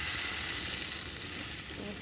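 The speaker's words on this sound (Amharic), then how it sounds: "እንደዚህ በእሳት መጥበስ ነው የሚያስፈልገው" Chicken roasts over a fire in its own fat without added oil, giving a soft, continuous sizzle and crackle that stays fairly quiet and even throughout.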